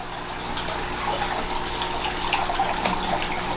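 Water splashes and gushes steadily from a leaking backyard pond, a constant close wash of noise without pauses and with no voices.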